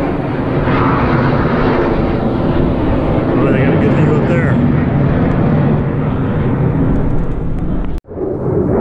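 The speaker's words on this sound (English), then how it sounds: "Constant flyovers from F-16s." F-16 fighter jets fly over the Wichita Mountains. Their loud, broad engine roar holds steady and masks everything for several seconds, then cuts off abruptly near the end.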